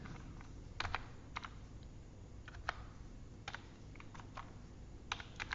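Faint, sparse clicks of a computer keyboard being typed on, irregular single and paired keystrokes over a quiet background hiss.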